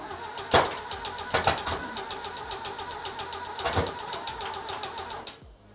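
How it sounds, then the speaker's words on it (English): A Datsun Roadster 2000, started with starting fluid on its first startup, cranks and fires close by with several sharp, loud backfire bangs punctuating the rough running before it cuts out abruptly. "All right, just like I said, we got some nice nasty backfires."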